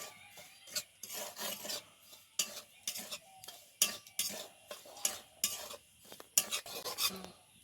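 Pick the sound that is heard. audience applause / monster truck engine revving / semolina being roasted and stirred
semolina being roasted and stirred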